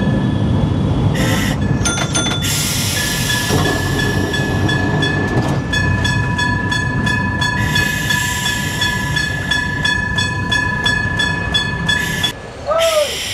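A Kolkata tram on the Esplanade to Shyambazar line runs steadily along the track, with a loud continuous rumble, rattling carriage noise and sustained tonal whines, ending in a brief squeal.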